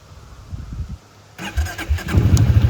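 A 2024 Can-Am Outlander Pro Hunting Edition HD7 ATV engine cranks with a low uneven rumble. It then catches halfway through and settles into a steady, fairly quiet idle close by.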